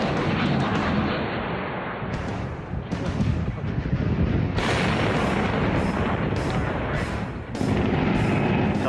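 Mine-clearing rocket line charges detonating during a Marine assault in an Iraqi city, a rolling series of heavy explosions and booms, loud and close, with several sharp blasts breaking through a continuous roar and wind buffeting the microphone.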